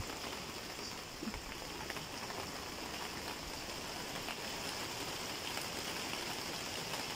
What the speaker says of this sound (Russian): Дождик начался, теперь все пойдет расти.